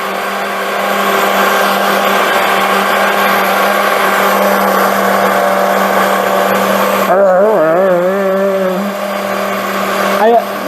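An electric mixer blends impossible bacon pie batter with a loud, steady whirring drone. It cuts off near the end, leaving a brief wobbling tone and a short burst of noise.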